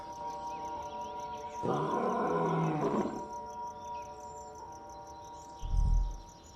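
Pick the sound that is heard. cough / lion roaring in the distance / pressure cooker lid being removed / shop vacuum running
lion roaring in the distance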